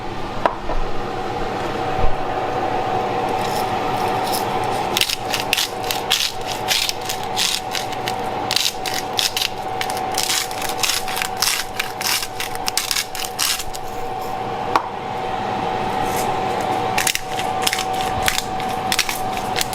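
Salt and pepper being ground over paella ingredients, a long run of rapid ratcheting grinder clicks, close and steady, with brief pauses.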